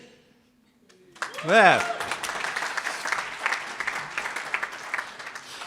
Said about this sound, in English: I'm sure they want to give themselves a cheer.